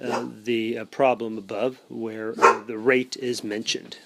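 A dog barks in the background, faint and partly buried under a steady stream of close indoor speech from a person teaching a math lesson.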